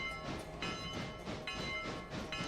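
A heavy locomotive with tens of thousands of pounds of tractive effort runs along the rails, giving a steady rolling rumble with recurring metallic clatter and a faint tonal whine throughout.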